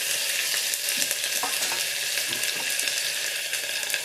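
Ginger tipped into hot oil already frying mustard seeds, cumin, whole coriander and bay leaves for a vegetable pulao, giving a loud, steady close sizzle with faint stirring scrapes throughout.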